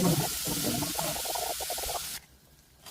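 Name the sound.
onions frying in oil with spluttered mustard seeds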